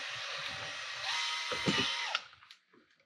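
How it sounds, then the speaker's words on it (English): A power drill bores a small pilot hole while a magnetic tether is fitted to a MATRYX Indy VR1, giving a steady high whine for about two seconds that then cuts off, with a few faint handling knocks after it. "So just drill a little pilot hole here."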